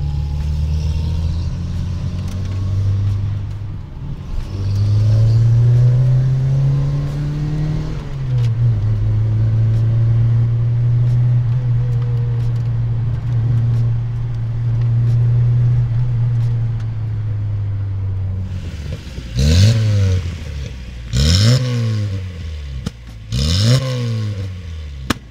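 Skoda Favorit engine with a straight-pipe exhaust and no muffler, idling low then climbing and holding a loud raspy drone, ending with several sharp throttle blips, close and alone.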